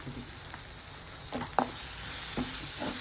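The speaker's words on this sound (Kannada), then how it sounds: "ಪುಡಿ ಹಾಕಿದ್ಮೇಲೆ 1-2 ನಿಮಿಷ ಈಗ ಹುರ್ಕೊಳ್ಳೋಣ" Dry spice powders (chili, cumin, coriander) toasting in a pan for palak paneer, giving a soft steady sizzle broken by a few louder stirring scrapes and clinks, close and without talk.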